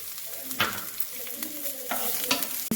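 Ginger, garlic and onions fry in hot oil with mustard seeds, cumin and curry leaves for a Telugu mixed-greens curry, making a continuous close sizzle broken by several sharp crackling pops and stirring scrapes.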